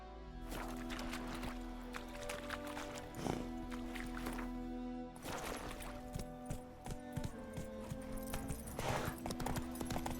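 Roach, a horse in the video game The Witcher 3, gallops with steady, rhythmic clip-clop hoofbeats close by, layered over a sustained musical score and ambient game sound throughout.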